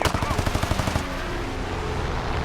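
Pre-war .50 cal machine guns on a P-39 N-0 fighter in a video game fire a rapid, loud, close burst of shots for about a second, which then gives way to a steady roar.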